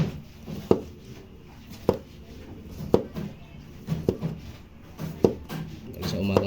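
Knife slicing vegetables and fish on a cutting board for a home-cooked meal, with steady repeated cuts roughly once a second, close and crisp, over a constant background hum.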